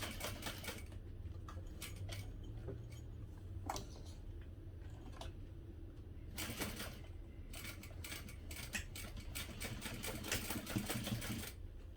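Sewing machine stitching a parachute knapsack, with a steady mechanical whir and rapid stitch rhythm accompanied by scattered sharp clicks and taps of handling close by.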